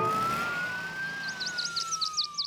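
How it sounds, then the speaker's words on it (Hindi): A cartoon police car siren gives one long wail that rises and falls, joined near the end by a run of quick chirpy squeaks, with no speech. "मॉर्फल की पुलिस कार आपको जेल ले जा रही है"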